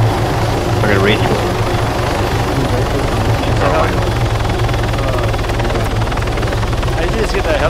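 A helicopter's rotor in the video game Arma 3 thumps in a steady, loud, continuous drone, close by and unchanging.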